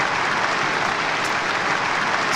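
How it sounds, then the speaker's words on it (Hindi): A stadium crowd applauds during a chess match, a thick, even roar of clapping that holds steady and loud throughout. "स्टेडियम में तालियां"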